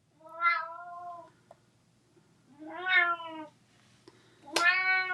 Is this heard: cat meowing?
yes